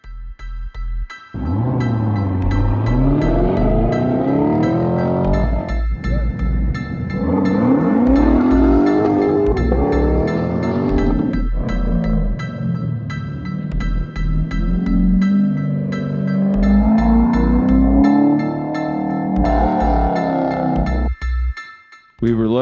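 A Corvette C4 on an autocross course at Tire Rack revs hard through repeated rising and falling engine sweeps, shifting and accelerating close to the microphone for over twenty seconds.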